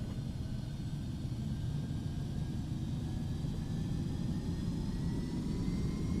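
Jet engines of a Beechcraft Premier 1A in a flight simulator spooling up on the ground before taxi, a steady broadband roar with faint rising whine tones, continuous and even throughout, no voices.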